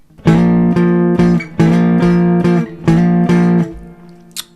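Electric guitar playing the intro double stops, bright ringing pairs of notes in choppy repeated bursts, close and loud, ending with a brief sustained tail.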